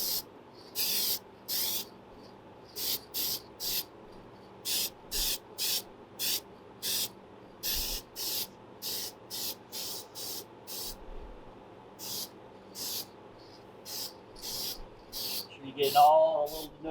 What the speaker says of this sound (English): Follow the contours of the dash when you're spraying.